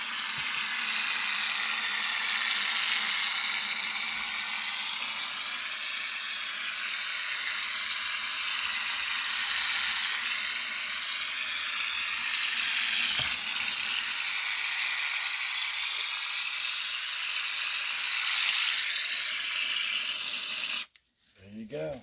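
A can of shaving cream being shaken before use for shaving-cream tie-dye, giving a steady, continuous hissing rattle that runs for about twenty seconds before stopping abruptly.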